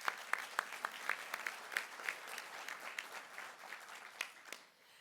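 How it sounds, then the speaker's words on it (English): Applause from an audience at a membership appreciation gathering of a local economic development group, a few pairs of hands clapping in uneven rhythm, moderately near and fading out at the end. "So let's give them an applause."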